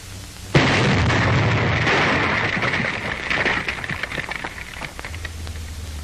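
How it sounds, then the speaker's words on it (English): Demolition blasts blowing out enemy roadblocks during 1945 wartime port repair: one sudden loud blast, then a sustained heavy roar with crackling debris that slowly fades, no voices. "Roadblocks set up by the enemy have to be blown out"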